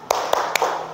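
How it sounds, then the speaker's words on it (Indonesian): A short burst of rhythmic group clapping from a seated audience of teachers at a training session, three sharp evenly spaced claps in quick succession. "Sekarang kita tepuk semangat dulu biar lebih enjoy nggih."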